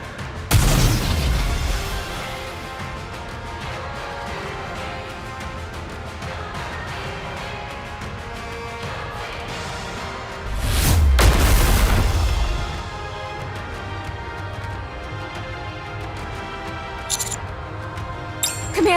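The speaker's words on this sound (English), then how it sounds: "The unknown is approaching at high speed. She's opening fire!" Enemy fire and explosions in the video game Nikke: a heavy boom opens, followed by sustained rumbling combat noise and a second, deeper blast swelling midway before settling back into a steady roar.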